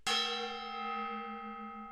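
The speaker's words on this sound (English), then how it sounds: "So I'm going to hit the gong." One strike on a small decorative gong gives a bright metallic clang that rings on as a sustained, slowly fading tone, heard alone and close.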